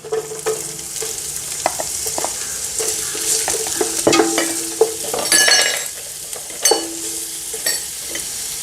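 Ginger and carrot stir-fry in a pan for chicken fried rice, giving a steady sizzle. Sharp spatula scrapes and clinks against the pan cut through it at irregular intervals, with no talking.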